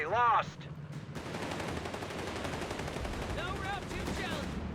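Rapid bursts of gunfire crackle through a Company of Heroes 3 battle with Panzers and Greyhounds, dense repeated shots over a busy combat din, with short whistling effects at the start and near the end.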